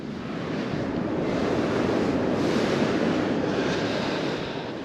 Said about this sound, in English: it's just nice to get out on the beach, isn't it?